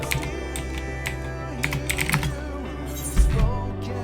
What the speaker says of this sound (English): The cat did indeed push my mic into my keyboard, so I had to move it.